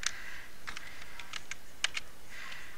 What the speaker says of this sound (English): So I'm going to go ahead and start off typing that.